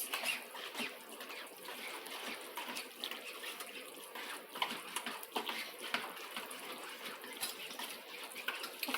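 Lime juice and rum being mixed in a bowl while baking a Jamaican potato pudding, giving continuous close, soft liquid sloshing and splashing with small irregular bursts and no speech.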